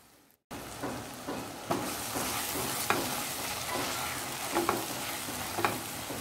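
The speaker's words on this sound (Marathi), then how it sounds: "हे सर्व मिश्रण मी चांगलं शिजवून घेणार आहे." A spice mixture for a drumstick-flower vegetable dish cooks in a pan, giving a steady close sizzle after a brief silent start. Periodic scraping stirs punctuate the frying, with no voices.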